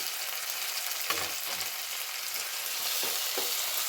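Chopped tomatoes sauté with onions in a pan for crab curry, a loud continuous sizzle with a few soft stirring knocks underneath.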